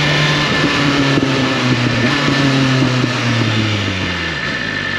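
2024 BMW S1000RR sport motorcycle engine while riding, loud and close with wind rush, revs climbing and falling through gear changes before dropping off at the end.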